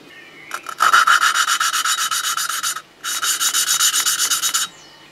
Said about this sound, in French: J'ai terminé ma passe au grain fin.